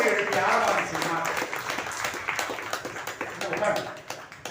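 An audience at a hotel opening ceremony in Chennai claps and cheers, a dense wash of hand claps that swells and flickers for several seconds under a busy crowd murmur.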